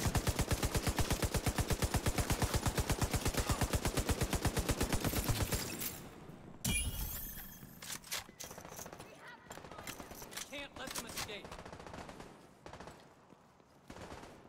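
Rifle fire from Tom Clancy's The Division 2: Warlords of New York rattles off in a long, rapid automatic burst, then thins into scattered shots, impacts and game effects, with some talk faintly mixed in.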